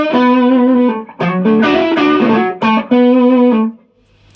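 A 1959 Gibson ES-335 electric guitar plays through an amplifier with Lo-Fi Mind reverb, sounding loud, sustained, distorted chords in several phrases with short gaps, close and alone, ending on a fading tail.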